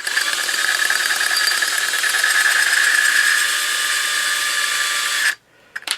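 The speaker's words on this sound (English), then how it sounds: "Now, we got the drill." During bent valve work on a 1974 Honda XL70 motorcycle, a power drill whirs steadily at high speed for about five seconds, close and loud, then stops with a few short clicks and bursts.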